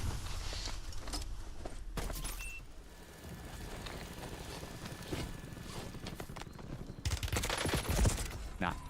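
Gunfire in a Warzone match sounds as a string of sharp, loud shots spread through the scene, with heavier clustered bursts near the end, alongside footsteps and quieter stretches between volleys.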